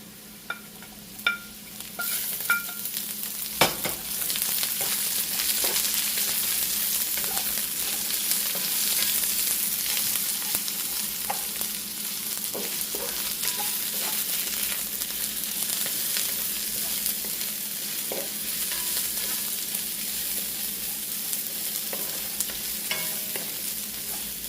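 Onion sautéing in a pan with garlic that has already browned a little, over medium heat: a steady close sizzle with scraping and stirring strokes and a few sharp clacks of a spatula near the start, no talking.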